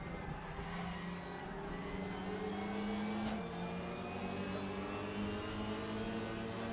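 A V8 Australian supercar engine, a Holden, racing in RaceRoom: a steady, throaty onboard drone holding high revs, with pitch shifting through gear changes and brief dips, heard alone at a moderate level.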